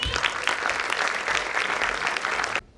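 Loud, dense audience applause at a school show, a sustained round of clapping that cuts off abruptly near the end.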